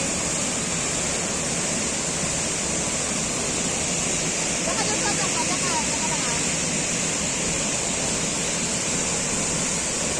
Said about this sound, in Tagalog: Napakalinaw ng tubig. Oh. Waterfall.